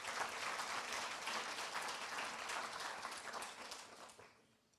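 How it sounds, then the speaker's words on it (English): Applause at a dentistry school declaration ceremony, a dense crowd clapping steadily and fairly faint, gradually dying away over the last second. "Please give yourself a massive round of applause."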